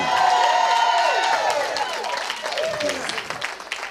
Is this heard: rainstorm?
no